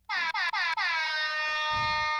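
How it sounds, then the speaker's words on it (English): A loud air horn blasts three short times, then holds one long, steady blare that trails off under some low background noise, during a Madden NFL video game simulation watch party. "That's the craziest air horn I have ever seen."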